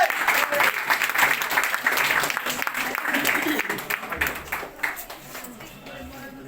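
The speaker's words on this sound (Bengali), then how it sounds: "জোরে জোরে জোরে তালি হবে।" Loud, energetic applause from a crowd at a business awards ceremony, dense clapping that stays strong for several seconds before tapering off into scattered claps.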